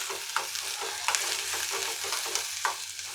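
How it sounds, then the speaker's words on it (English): Roughly cut small onions sauté in a pan, giving a continuous bright sizzle broken by several sharp stirring scrapes and clinks, close and alone. "I will saute it for a minute or two"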